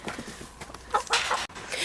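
Several hens clucking nearby in short, uneven bursts, with soft rustling between calls.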